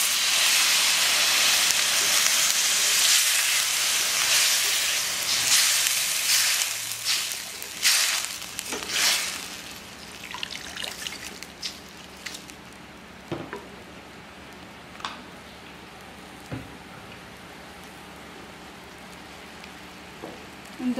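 A splash of water poured into a hot pan of Semarang-style mangut erupts in a loud, dense hiss of sizzling steam that gradually fades into scattered crackles and pops over about twenty seconds.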